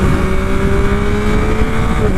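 A Yamaha MT-09 motorcycle engine revs hard during a quickshift, a loud, close, continuous roar with a steady rising pitch, recorded on the move without talking.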